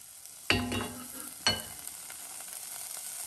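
Minced garlic and crushed pepper drop into hot olive oil with two sharp bursts of sizzling, each followed by a steady, close frying hiss that continues quietly with no one talking.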